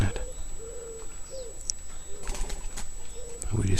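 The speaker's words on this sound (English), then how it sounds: "Are we disturbing all the birds in the trees?" Pigeons or doves cooing in churchyard trees in Suffolk, several soft repeated coos spaced across the moment with faint chirps and a light rustle nearby.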